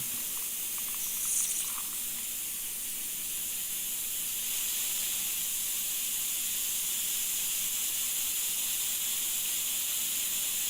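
A spray gun sprays in a continuous soft hiss, steady and moderately close, after a brief sputter near the start.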